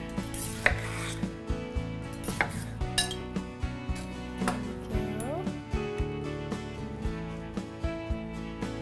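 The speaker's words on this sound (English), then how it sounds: "take some of my pineapple, take this big piece, and I'm just going to cut it a little bit smaller" Knife cutting a big piece of pineapple into smaller chunks on a cutting board, a steady rhythm of close, crisp chops with light background music.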